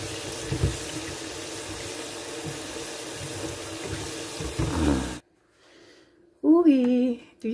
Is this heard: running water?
yes